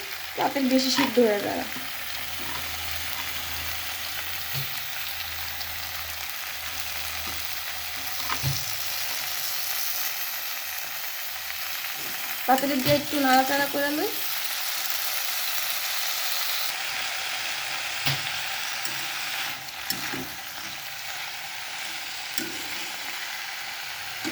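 Malabar spinach leaves frying in a pan with pumpkin and stems sizzle steadily at close range, broken by a few louder bursts of scraping and clattering as the mix is stirred.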